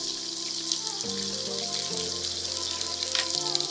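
Shallots and onions hitting a hot pan and frying, a steady bright sizzle with crackle running throughout, loud and close with no talking.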